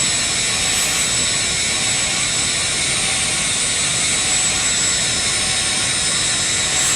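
Boeing 747 jet engines in a flight simulator game, a steady, loud broadband roar with a bright high whine held evenly throughout, no talking.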